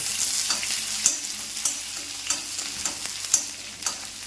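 Small shallots frying in oil with dried red chillies and curry leaf sprigs for a spinach thoran, a bright continuous sizzle punctuated by regular stirring knocks and scrapes, close and with no voices.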